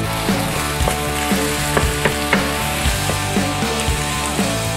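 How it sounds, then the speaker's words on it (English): Venison meat sizzles loudly in a cast iron skillet, a dense steady crackle with repeated sharp clicks and pops scattered across it, close and continuous with no talking. "let's plop this bad boy in the cast iron skillet"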